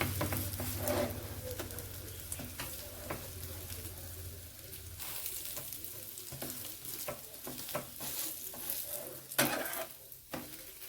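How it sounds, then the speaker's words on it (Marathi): Bread omelette frying in a pan over a medium flame, a steady crackling sizzle with occasional scrapes and clinks of a utensil against the pan, close and fairly loud throughout. "असे मस्त फ्राय करून घ्यायचे"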